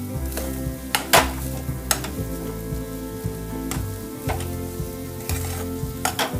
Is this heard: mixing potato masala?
yes